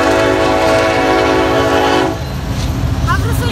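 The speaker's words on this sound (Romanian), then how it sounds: "Stai o leacă, trece trenul, nu?" A passing train blasts its loud, sustained horn close by for about two seconds, then the rumble and clatter of the rail cars carry on.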